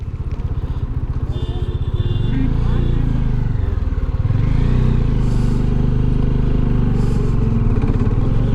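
Motorcycle idling and pulling through a highway toll gate near Srinagar on a long-distance bike ride, a loud steady engine thrum close by that swells as it moves off, with traffic noise around.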